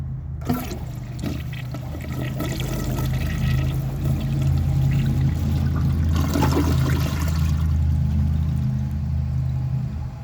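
A 1993 Kilgore Aladdin toilet flushes a grocery bag, a loud close rush of swirling water that starts abruptly, roars steadily with a low gurgling rumble, and keeps draining for about ten seconds.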